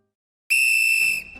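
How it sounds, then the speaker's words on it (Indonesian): A sharp, loud single whistle blast signals the start of a game, held steady for under a second before cutting off. "Ketika peluit dibunyikan"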